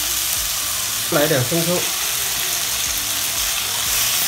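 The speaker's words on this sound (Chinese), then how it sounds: "倒入我们切好的土豆片，炒" Potato slices stir-fried in a wok in tomato juice give a loud, steady sizzle throughout, with a few scraping stirs and a short spoken phrase partway through.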